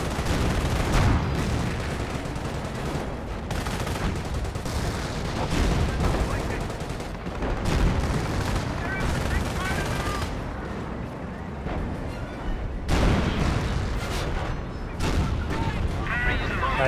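Sector artillery strike in the World War II strategy game Company of Heroes 1, a dense, continuous barrage of booming shell impacts mixed with rattling gunfire that stays loud and steady throughout.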